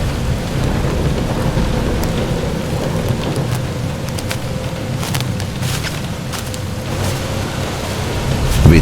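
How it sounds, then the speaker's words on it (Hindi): Steady heavy rain pours down in a thunderstorm at dusk near an old village temple, with a constant dense hiss, scattered louder drops and a low rumble throughout, no talking. "कम से कम बारिश से तो बचेंगे"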